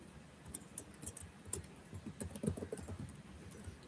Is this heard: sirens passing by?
no